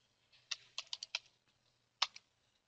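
Keystrokes on a computer keyboard while a root password is typed during a CentOS server setup: a short burst of four or five quick clicks, a pause, then two more taps, close and fairly soft over a low hum.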